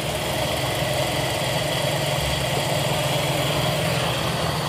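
A Toyota Kijang 5K engine idles steadily after a carburetor service. A continuous, even mechanical hum runs alone for the whole stretch without speech.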